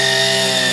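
A newly bought gas-powered grass cutter runs at steady high revs, its loud buzzing whine close and unbroken, with no voices.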